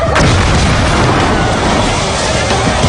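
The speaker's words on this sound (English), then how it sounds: "That caused nitromethane to be released into the engine prematurely, setting off the explosion." A nitromethane-fuelled dragster engine blowing up, heard as one loud, sustained, roaring blast that fills the whole stretch with dense noise and no pause.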